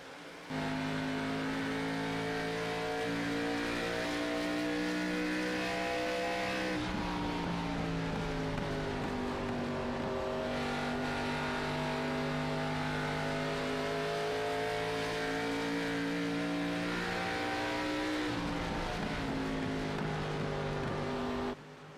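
Race cars lapping an oval track during the Hawkeye 150, a steady sustained engine drone with shifting pitch as cars pass, loud and continuous throughout, no talking.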